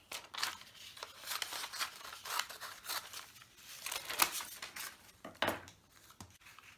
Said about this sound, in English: so you can cut out just the letter part of it